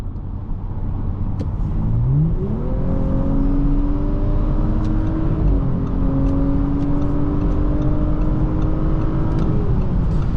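A 2024 Audi S5 3.0T Sportback accelerates from inside the cabin, its engine note rising steadily through the gears with a smooth shift, over a constant road rumble with no talk.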